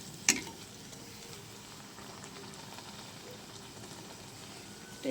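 Luchi, the puffed flatbread, fries in hot oil with a steady close bubbling sizzle that holds evenly, marked by a sharp clink near the start and a bump at the end.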